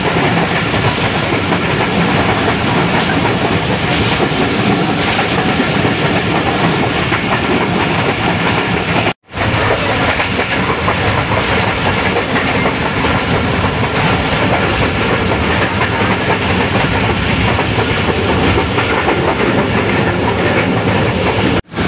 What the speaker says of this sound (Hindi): ब्रेक सप्लाई हो चुकी हैं और ट्रेन हमारी अप्रोच बना रही है यूसा वाला रेलवे स्टेशन पर।